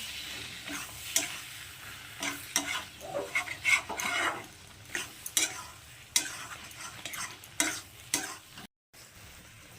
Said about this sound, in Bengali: ঝিঙে আর আলুটা যে ভেজে রেখেছিলাম তো সেটাকে দিয়ে দিচ্ছি তো এখন এটার সঙ্গে আরও খুব ভালো করে কষিয়ে নেবো